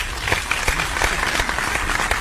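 A canned applause sound effect fired from a button in a radio studio, a brief burst of crowd clapping at moderate loudness with faint voices underneath.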